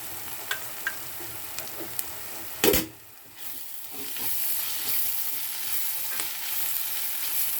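Cluster beans frying in a pan with coriander added, a close continuous sizzle broken by utensil taps early on, a sharp clatter, a brief hush, then the frying swells back steadily.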